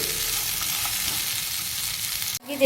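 Garlic and coconut frying in a pan as a base for a pomfret fish curry, a steady dense sizzle with faint stirring scrapes, close and loud, cutting off sharply near the end.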